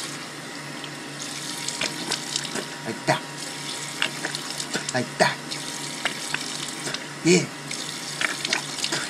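Tap water runs into a bathroom sink while a person rinses their mouth, a continuous splashing hiss broken by irregular gurgles and spits, with someone talking briefly over it.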